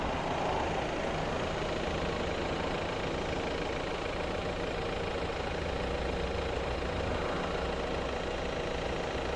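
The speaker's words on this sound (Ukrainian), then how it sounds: "Двигун працює, заведений автомобіль." A 2014 Volvo V60 2.0 D4 diesel engine with an 8-speed automatic idles steadily and continuously, a low, even rumble with no voices.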